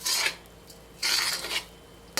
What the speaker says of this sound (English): Mix it real good.